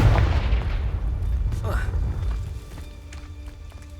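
A Confringo fire spell is cast in the video game Hogwarts Legacy, a loud booming burst that opens the clip and fades over a few seconds, followed by a brief swooping magical whoosh and a low lingering rumble.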